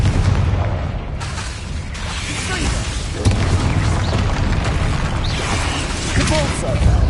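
The Confringo spell in Hogwarts Legacy goes off in dense booming bursts among other spell effects, loud and continuous with repeated blasts and crackling debris.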